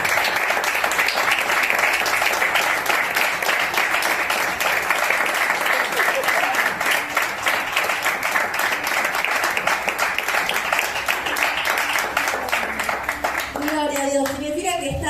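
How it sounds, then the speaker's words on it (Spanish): A church congregation applauds during a Christian sermon with sustained, dense clapping from many hands that fills the room at a steady level, with a few voices rising briefly at the end. "Aplaudan"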